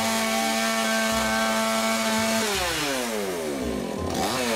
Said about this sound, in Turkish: Nasıl testeresi iyiymiş bak keskin lan nasıl kesiyor görüyorsunuz mu hiç?